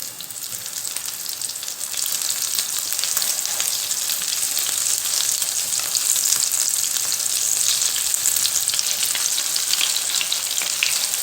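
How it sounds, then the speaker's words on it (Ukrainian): Loud, steady sizzling of minced pork mini pizzas frying in a hot pan over medium heat, a constant crackling hiss that continues throughout without talking. "Смажимо на середньому вогні, щоб фарш всередині просмажився."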